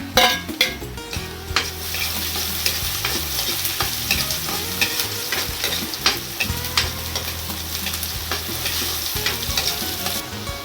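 Green chillies fry in hot oil for Maharashtrian kanda poha, giving a lively close sizzle broken by repeated clinks and scrapes of a spoon stirring in the pan.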